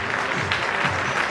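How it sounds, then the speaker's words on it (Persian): Dense, steady applause fills the hall at a graduate honoring ceremony, a full crowd clapping loudly and continuously without pause. "یه تشویق خیلی خوب و جانانه"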